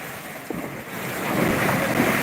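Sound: floodwater rushing at bridge level at night

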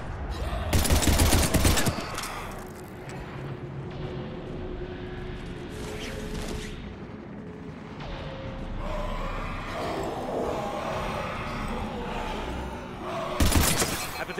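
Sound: gunfire in Mass Effect 3 video game

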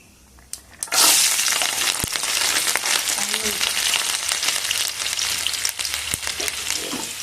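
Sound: mustard seeds crackling in hot oil

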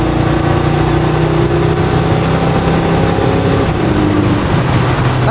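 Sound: 1969 Ford F100 Windsor engine accelerating under throttle

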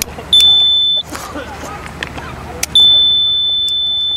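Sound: gas detector alarm sounding when exposed to butane gas

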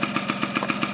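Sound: 1983 Yamaha RX50 Special motorcycle small engine running

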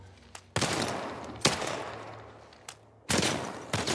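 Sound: gunfire, video game The Last of Us Part 1

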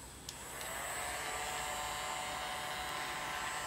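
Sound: hair dryer drying a reborn baby doll's hair

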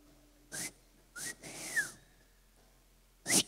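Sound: whistle imitating a parrot

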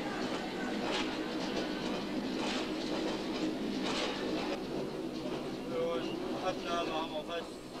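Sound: miners' personnel train rolling to the mine field

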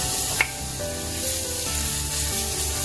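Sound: sliced onions sautéing in a pan

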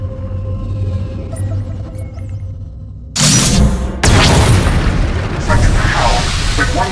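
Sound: flux cannons destroying an Imperial capital ship, from video game Star Wars: The Old Republic

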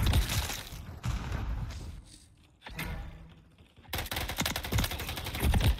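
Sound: weapon gunfire in the video game Call of Duty 3

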